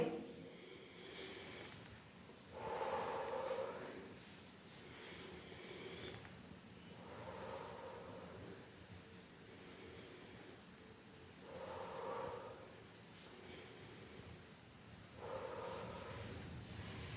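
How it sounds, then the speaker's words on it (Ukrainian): Children breathe quietly and slowly at an even pace, each soft inhale through the nose followed by a longer breathy exhale through the mouth, faint and close. "вдихаємо носиком, опускаємо ручки вниз, видихаємо ротиком"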